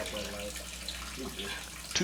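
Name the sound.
water draining from house plumbing lines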